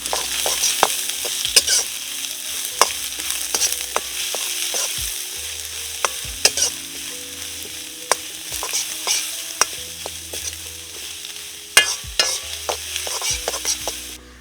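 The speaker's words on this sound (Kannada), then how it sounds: "ಬೆಳ್ಳುಳ್ಳಿ, ಶುಂಠಿ, ಸ್ಪ್ರಿಂಗ್ ಆನಿಯನ್ನದ್ದು ಆ ಬಿಳಿ ಭಾಗ, ನೀರುಳ್ಳಿ ಸ್ವಲ್ಪ ಹುರಿಯುವ." Finely chopped garlic, ginger, white spring onion and onion frying in a pan for gobi manchurian, a constant bright sizzle with repeated sharp scrapes and taps of a spatula stirring throughout, no voices.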